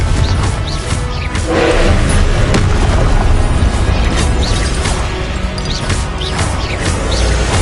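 Repeated booming blasts from Confringo fire spells in Hogwarts Legacy, loud and dense, overlapping one another in a continuous barrage with no voices heard.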